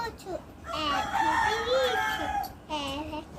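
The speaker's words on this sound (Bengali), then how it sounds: "মুরগিগুলো ডাকাডাকি করছে, দেখছো খিদে পেয়ে গেছে।" Hungry domestic chickens cluck and call loudly and close by, in a continuous run of rising and falling squawks with a brief pause near the end.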